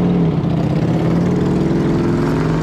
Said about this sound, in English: You rev up the engine a couple times, just like get it alive.